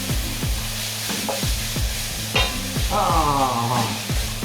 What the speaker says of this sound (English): put a little bit of sugar in to make sure that our onions caramelize, and keep on stirring